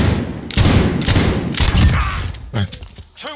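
Rapid bursts of gunfire from Call of Duty Modern Warfare, several loud volleys of shots cracking close by, with a voice speaking briefly near the end.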